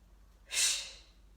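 A single breathy open-mouth exhale during a fitness breathing exercise, a soft airy whoosh that swells and tapers over about half a second in a quiet room.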